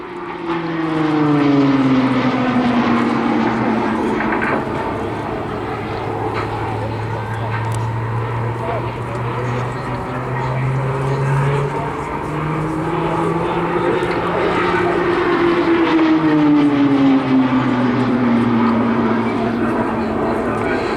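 A Tucano propeller plane drones loudly overhead at an airshow, its engine pitch rising and falling as it passes, with a commentator talking over it.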